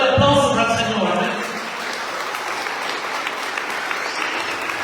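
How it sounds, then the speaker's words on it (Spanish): A church congregation at a Spanish-language service breaks into loud applause, strongest at the start and settling into steady sustained clapping; a voice may sound briefly over the start. "Den aplausos al Señor."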